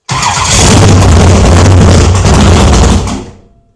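A race car engine fires up and revs hard, a loud, steady close-up roar that holds for about three seconds before cutting off and fading quickly.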